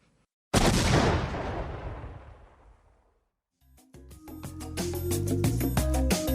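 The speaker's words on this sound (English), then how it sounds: "Love hearing that explosion." A loud explosion bursts out and rumbles away into silence, then a booming, rhythmic burst of dramatic music kicks in.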